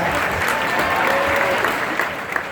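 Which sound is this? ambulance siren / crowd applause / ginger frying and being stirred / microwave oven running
crowd applause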